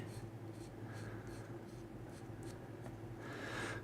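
Light, repeated scratchy rubs of sanding on a small plastic Gunpla model part, quiet and close, in a steady back-and-forth rhythm.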